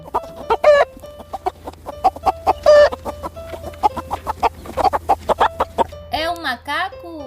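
A chicken clucks in a busy run of short, repeated calls, with a few louder squawking bursts and some flutter near the end, fairly close and clear throughout.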